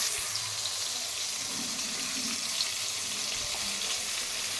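Mutton fries in a pan with a soft, wet sizzle and bubbling, a low steady crackle with a few scraping stirs near the pan.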